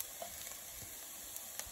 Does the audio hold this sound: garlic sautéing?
yes